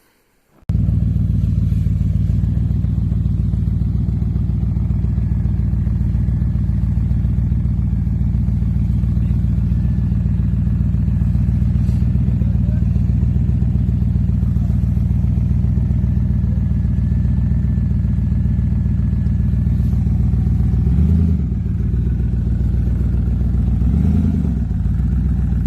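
A 2003 Toyota 4Runner 4.7 V8 mounted in a 1951 International rat rod chassis idles steadily and loudly at close range, with a brief clatter and two small revs near the end.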